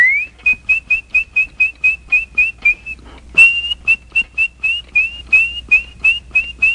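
Animatronic robin from a Mary Poppins attraction at Walt Disney World whistles a steady run of short, chirpy notes in a regular rhythm, briefly pausing before resuming, loud and close with no talking.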